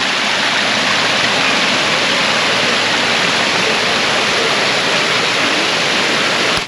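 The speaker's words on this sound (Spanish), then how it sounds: "Otro elemento muy característico es el agua fluyendo." Steady, loud rush of flowing water in a Japanese garden, a continuous broadband splash that keeps going without a break and with no voices over it.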